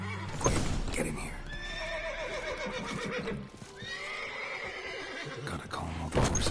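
Several horses in The Witcher video game neigh loudly in overlapping whinnies with hoof clip-clops, over game ambience and someone talking.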